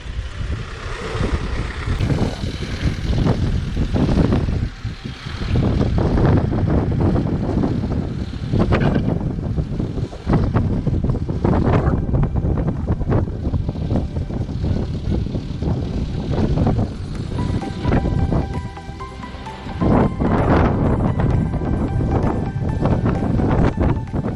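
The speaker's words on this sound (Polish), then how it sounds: "dzisiaj wieje, ale jeszcze jest tak w miarę. Nie jest źle, ale wieje nieźle." Strong wind gusts buffet an outdoor microphone in loud, rumbling roars and blasts that rise and drop throughout, with no one talking.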